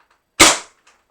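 A single sharp pop from a Nexus Pro X foam dart blaster firing, loud and close, followed by faint rattling.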